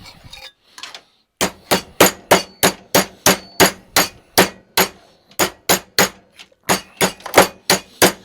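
Repeated hammer blows on metal parts for a homemade Freddy Krueger glove in a garage workshop, a steady run of loud, sharp strikes close by with brief pauses, no talking.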